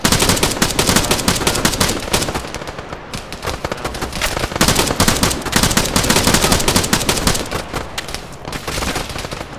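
Sustained machine gun fire during a headquarters defense in a video game, loud, dense rapid bursts chattering almost nonstop with brief pauses, close and dominant with no talking.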